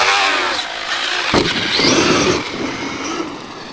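A Traxxas RC car runs with a bent aluminium drive shaft, giving a loud, close, continuous high whirring motor noise with a rough, ticking rattle and a brief sharp knock partway through.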